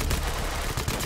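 Gunfire in a shooter video game: a dense, loud, sharp volley of rapid shots crowding a brief moment, heard close and harsh.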